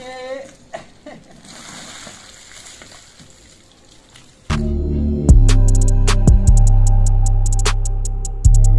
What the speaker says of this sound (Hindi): तो अब इस बकरे को नहला रहे हैं।